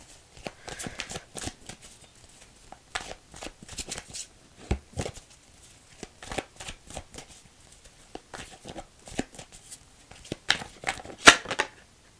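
Tarot cards are shuffled close by in irregular bursts of quick riffling and soft slapping, with brief pauses between rounds and no talking.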